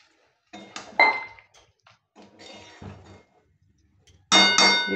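A metal lid clangs onto a cooking pot of echar (jackfruit) curry set to boil, with clinks and clatter of pots and utensils, a loud sharp cluster of metallic clanks at the end.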